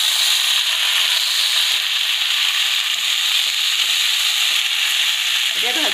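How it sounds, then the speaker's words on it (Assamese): Dhekia fern greens and sliced outenga (elephant apple) fry in hot oil in a pan, a loud continuous sizzle with light scraping stirs near the end. "ঔটেঙা আৰু ঢেকীয়াখিনি কাটি থোৱা ঢেকীয়াখিনি একেলগে দি ভাজি ল'ম"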